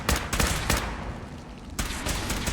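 Rapid gunfire in Fallout 4 aimed at a queen: several loud, close bursts of shots, a brief lull with a sustained roar, then another run of shots.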